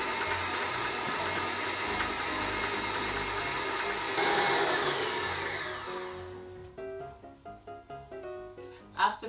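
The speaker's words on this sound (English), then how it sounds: "mixer on, so I'm going to go and cream this for about 5 to 8 minutes" An electric mixer on medium speed creams margarine and sugar, giving a steady, loud whirring drone that dies away after about six seconds, followed by sparse plucked musical notes.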